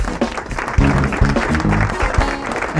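Studio applause on a Brazilian running talk show, a dense steady patter of clapping at close range with a voice cutting in over it at moments.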